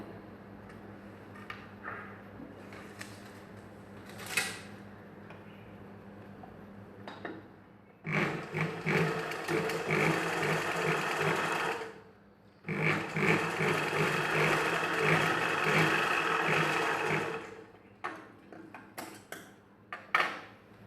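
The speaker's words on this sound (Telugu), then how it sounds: "ఇలా మార్కింగ్ చేసుకొని ఈ మధ్యలో కుట్టు వేసుకోవాలి" A sewing machine stitching a back-open blouse runs in two long bursts of steady, fairly loud whirring, with quieter handling and pauses before, between and after.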